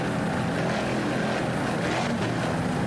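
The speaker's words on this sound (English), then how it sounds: "Powered by two 500 horsepower Mercury inboards." Continuous loud, dense engine roar from a 38-foot Fountain powerboat racing with twin 500-horsepower Mercury inboard engines, steady and close with no break.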